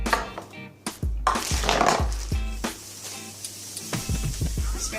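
A cup of sugar is sprinkled into a mixing bowl while baking chocolate chip cookies, giving a grainy, hissing shower of crystals close up, broken by dull knocks and thumps against the bowl.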